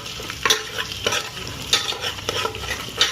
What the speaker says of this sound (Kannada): ಈ ಶೇಂಗಾ ಎಲ್ಲ ಫುಲ್ ಫ್ರೈ ಆಗಬೇಕು ಗೈಸ್.